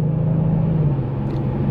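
Turbocharged engine of a Kia Stinger GTS, a steady low rumble heard from the car during slow driving, continuous and fairly loud with no talk over it.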